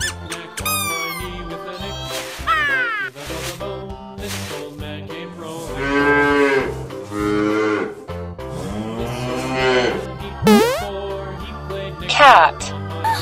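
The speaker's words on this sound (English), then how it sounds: "Cow." Several drawn-out cow moos from a toy sound among squeaky, squawking toy-like noises and a speaking voice, each call fairly loud and close.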